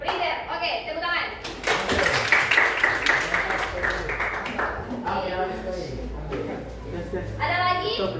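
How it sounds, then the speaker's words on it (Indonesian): Students in an Indonesian classroom clap their hands together in a burst of applause, mixed with children's voices and some thumps, fairly close and lively before fading into chatter. "Oke, tepuk tangan."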